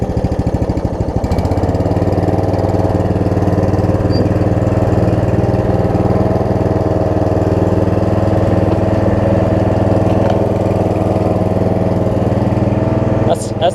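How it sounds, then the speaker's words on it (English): A Snapper RER riding lawn mower engine, freshly repaired after a bad cylinder head, idles loud and close in a steady, even putter after a brief rise at the start, then cuts off at the end. "How good it idles down too."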